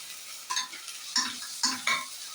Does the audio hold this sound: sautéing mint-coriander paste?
yes